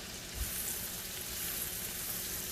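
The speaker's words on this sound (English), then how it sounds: "So you want to saute these so they become soft." Vegetables sauté in a pot over low heat for a shrimp and grits dish, giving a steady, even sizzle with a faint knock or two near the start and no talk.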